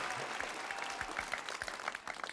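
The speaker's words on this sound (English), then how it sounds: "Round of applause, y'all." Audience applause welcoming a guest teacher on an episode about data centers and environmental justice, soft and somewhat distant clapping with faint voices mixed underneath.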